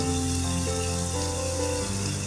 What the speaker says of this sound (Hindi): 1 कप पानी ऐड करेंगे